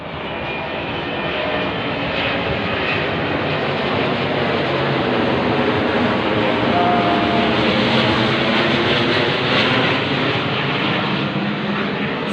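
An army aircraft passes overhead with a broad, continuous engine roar that holds steady and swells slightly through the middle, heard alone without voices.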